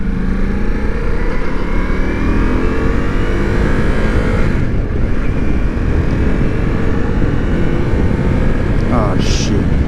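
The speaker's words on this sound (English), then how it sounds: "it revs really quick, and it likes to be up in the rev range, and I guess that's just a characteristic of the V4 engine." Ducati Multistrada V4S motorcycle with a V4 engine revving high on a ride, a loud continuous engine roar with rising and falling pitch under heavy wind noise, close by.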